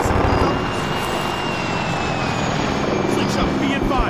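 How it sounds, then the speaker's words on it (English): Helicopters in the Arma 3 military video game drone overhead with a loud, steady rotor and engine roar that holds evenly for a few seconds. "Do I hear helicopters?"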